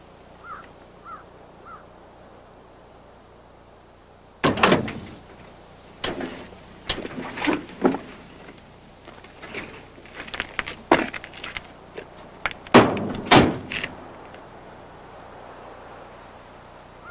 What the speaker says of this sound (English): Len Rowan, open the door and step out of the truck